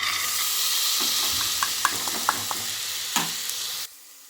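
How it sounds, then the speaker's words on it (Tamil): Onions, turmeric and green cowpeas are stirred in a sizzling pan for a tamarind kuzhambu, a close continuous fry hiss broken by several sharp spoon scrapes and taps before stopping abruptly. "இதெல்லாம் சேர்த்து ஒரு ரெண்டு நிமிஷம் கிண்டலாம்"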